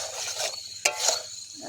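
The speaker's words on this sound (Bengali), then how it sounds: "চলো ভালো করে কষাই নিই মঙ্গল ভাই" Chicken mince ghugni being sautéed in a pan, a soft, close sizzle with light scraping of a spoon and one sharp metallic clink against the pan midway.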